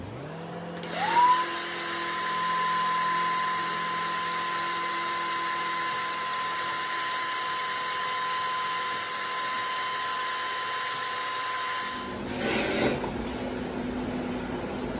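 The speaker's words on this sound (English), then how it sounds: "And then what I do is I just start sifting and vacuuming." A vacuum cleaner runs in a steady loud whine while an Egyptian uromastyx enclosure is cleaned, starting up after a second and cutting off near the end, with brief rustling around it.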